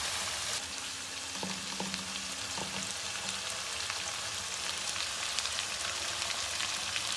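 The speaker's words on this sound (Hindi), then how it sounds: "सारा कुछ इकट्ठा ही भून जाए।" Boneless beef masala fries with spices in a hot pan, a dense steady sizzle and crackle running throughout with a few faint stirring knocks early on, close and alone without talk.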